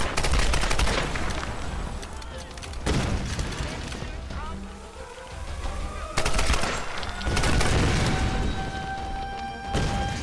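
Dense automatic gunfire from a Tomb Raider firefight rattles in repeated bursts, loud and close, with booms and impacts mixed in and someone talking over parts of it.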